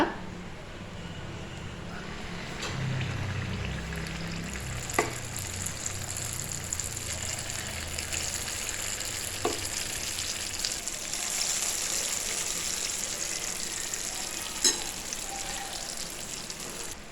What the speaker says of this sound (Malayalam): അടുത്ത ബാച്ച് നമുക്ക് ഇതേപോലെ തന്നെ വറുത്തെടുക്കാം